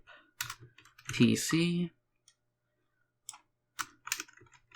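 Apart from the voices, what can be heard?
computer keyboard typing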